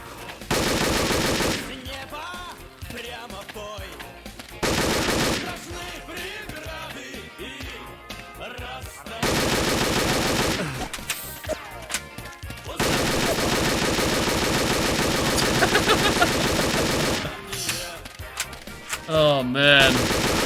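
Gunfire from the PC shooter game Specnaz 2 comes in repeated loud bursts of rapid automatic shots, separated by brief gaps, dense and close throughout.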